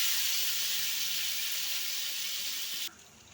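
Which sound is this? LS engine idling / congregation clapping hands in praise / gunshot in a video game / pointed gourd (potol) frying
pointed gourd (potol) frying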